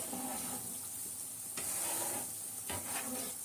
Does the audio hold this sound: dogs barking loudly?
no